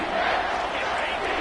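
A football stadium crowd roars steadily in a big moment of the game, a broad, continuous wash of cheering held at even loudness throughout.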